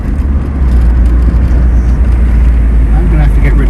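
An Isuzu Piazza with a rattle is driving, giving a steady, loud low engine and road rumble that continues throughout, with a voice talking over it.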